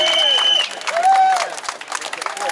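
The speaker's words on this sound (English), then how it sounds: "I want to give a big cheer for Piers" Crowd at a pub protest in Norwich cheering and applauding, a dense wash of cheers and claps with pitched shouts and whistles rising over it for a couple of seconds, loud and close.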